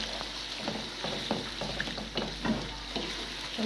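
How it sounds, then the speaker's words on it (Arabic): Onion frying in hot oil for Egyptian koshari, a steady close sizzle broken by rhythmic stirring scrapes, with no talking. "كده الزيت سخن يا حبايبي، هنضيف البصل"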